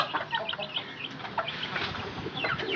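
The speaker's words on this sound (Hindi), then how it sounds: "ये कंधारी मुर्गी हमारी माशाल्लाह" A Kandhari hen clucks close by, with steady, repeated clucking and a mix of other chicken calls running throughout the short stretch, no talk over it.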